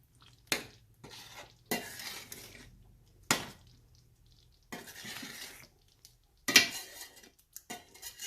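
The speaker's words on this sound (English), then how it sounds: "And I'm also going to add some curry leaves." Curry leaves go into a hot pan of mirchi ka salan gravy and get stirred, with intermittent bursts of sizzling and spatula scrapes separated by near-silent gaps, fairly quiet overall.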